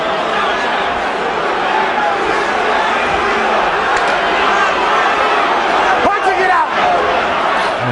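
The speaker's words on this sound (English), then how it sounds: "Enormous crowd here at the Hilton in Las Vegas" Large boxing arena crowd at the Las Vegas Hilton during a heavyweight fight, a steady dense roar of chatter and murmuring filling the hall, with a few sharp thumps near the end.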